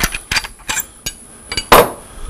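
Elliptical gouge by SB Tools cutting a natural-edge end-grain mesquite bowl on a lathe: close, sharp scraping bursts at irregular intervals, the last one the loudest and longest.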